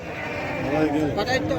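Goats and rams bleat amid a crowded, noisy weekly livestock market in Chelur, with voices talking throughout and overlapping the animal calls.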